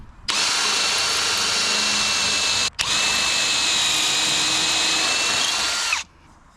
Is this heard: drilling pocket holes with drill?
yes